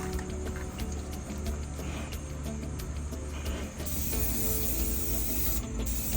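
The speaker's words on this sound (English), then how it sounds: "Okay, we are ready to spray." A painting frame is spray-coated, giving a soft hiss with brief bursts that turns into a louder, continuous spray partway through.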